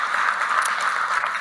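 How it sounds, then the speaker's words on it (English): A meeting audience gives a steady round of applause, a continuous patter of clapping hands at moderate distance, fairly quiet and even throughout. "So please give him a round of applause."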